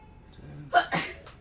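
A single short sneeze, fairly close, with a sharp burst and a quick follow-up breath, set in a quiet room where someone has been explaining a dragon drawing.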